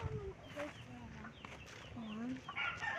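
Chickens cluck softly nearby in short broken calls, fairly faint, with a few higher squawks toward the end.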